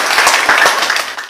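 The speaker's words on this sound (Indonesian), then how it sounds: "kasih aplaus dulu untuk Lingga" A class applauds a student, a short, loud burst of dense clapping from a group of students in a classroom that fades quickly.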